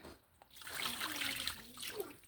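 Rinse water trickles and splashes softly into a sink for a couple of seconds as it drains off parboiled rice, a faint, close pouring sound.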